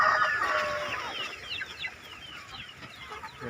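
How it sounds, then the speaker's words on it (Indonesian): Free-range village chickens of mixed ages cluck and chirp close by in a brief flurry of overlapping calls that thins out, with background noise but no speech. "ini saya ditemani oleh 3 kelompok ayam ini ya, berbeda umur"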